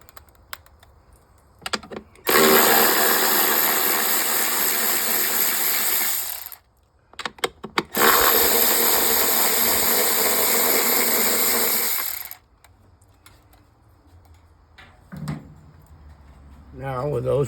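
A ratchet spins off 10-millimeter nuts in two long, fast buzzing bursts of clicking pawl, close and loud, with quiet pauses and brief handling noises between them.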